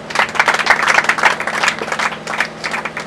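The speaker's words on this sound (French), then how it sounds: "Sous nos acclamations, s'il vous plaît." Audience applause at an academic graduation ceremony greets the president of the graduating class, a dense, steady patter of many hands clapping that swells and fades over a few seconds with no talk on top.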